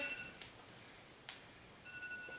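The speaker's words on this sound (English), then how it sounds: "It just rang my timer" A Pomodoro timer rings after its 25-minute work session, giving three short, faint electronic chimes spaced about a second apart over a quiet room.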